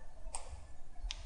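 Two faint, crisp mouse clicks while working in Autodesk Inventor, a single tick followed by a quick pair about a second later, heard alone against a quiet background.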